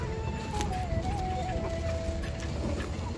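Chickens cluck and chatter at moderate distance amid a busy, noisy background in Kamalanagar, Mizoram, with a faint crow-like call.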